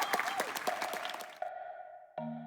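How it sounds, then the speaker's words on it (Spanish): Audience applause at a comic convention panel, a brief burst of scattered claps that cuts off abruptly and gives way to a steady electronic tone. "Démosle un aplauso a Jorge Jiménez."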